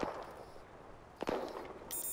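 Gunshots ring out at a distance in the battle royale game Cuisine Royale, a couple of faint cracks over quiet ambient noise.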